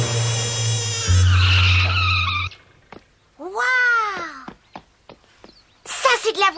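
A car skids in a loud, drawn-out screech of tires that cuts off abruptly, followed by whining, wailing cries and scattered clicks at close range.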